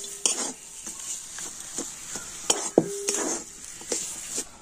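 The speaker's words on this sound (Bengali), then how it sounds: "তো এবার আমি সবকিছু ভালোভাবে মিশিয়ে নেব।" A spoon stirs winter-vegetable chop filling in a pan, giving irregular metallic clinks and scrapes against the pan over a soft background sizzle, with no talking.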